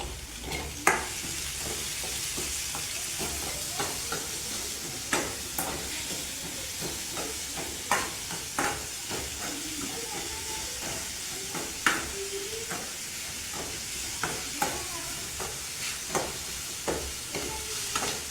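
Onions sizzle and fry in a pan for a raw banana curry, a continuous close hiss broken by repeated scraping stirs at a fairly regular pace.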